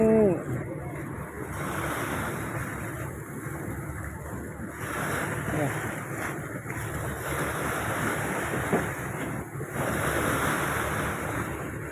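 Out on the sea, waves wash and surge beneath gusty wind buffeting the microphone, a continuous loud roar that rises and falls in long swells, with a voice speaking faintly at the start.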